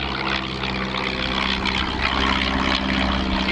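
Propeller aeroplane flying at the Shuttleworth evening air display, a loud continuous engine drone with steady harmonic hum, close and unbroken throughout.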